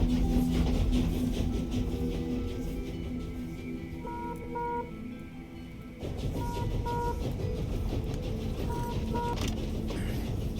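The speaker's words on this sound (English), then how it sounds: "we got the train started, but it's barely moving" In The Bookwalker: Thief of Tales, a barely moving train rumbles with a low, continuous drone and faint rail clatter, a brief dip mid-way before the engine noise resumes, with small beeping tones over it.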